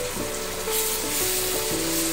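Tomato puree made from two medium tomatoes hits a hot pan of ghee and spices, giving a steady, fairly loud sizzle that runs throughout with a few soft shifts as it settles.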